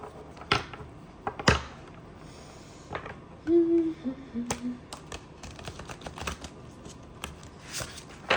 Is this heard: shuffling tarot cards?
yes